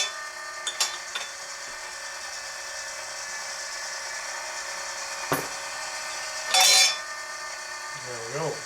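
Mechanical clicks and ratcheting from a hand-cranked DIY brass annealer, sparse sharp taps over a steady hum, with one brighter whirring burst near the end.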